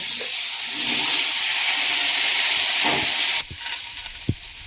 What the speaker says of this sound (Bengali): আগে দিয়ে দিচ্ছি এই কুমড়ো আর ঢেঁড়সটা একটু হালকা করে ভেজে নেব।